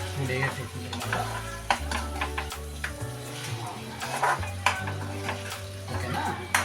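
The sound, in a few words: stirring chicken with pepper in a frying pan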